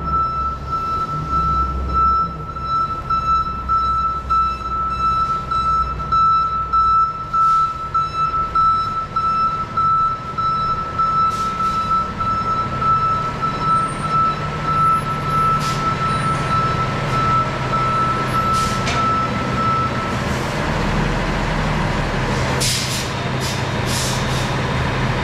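A Freightliner truck pulls in with a steady, repeating reversing beep over a loud diesel engine rumble, with occasional clanks and air hiss toward the end.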